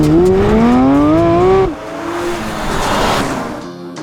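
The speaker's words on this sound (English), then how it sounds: "New Zealand's first drive in the GT3" Porsche 911 GT3 RS sports car engine revving hard through a rising pitch, then cutting off sharply as it shifts and pulls away in a second, rougher surge of engine and road noise.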